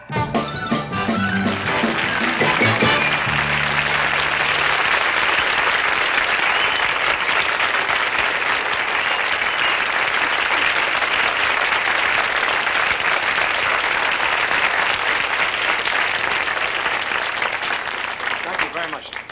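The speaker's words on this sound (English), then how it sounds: "I haven't even done anything and they're applauding already" A studio audience at a 1960s television comedy hour breaks into loud, steady applause that fills the room, rising after a few seconds of talk and holding strong to the end.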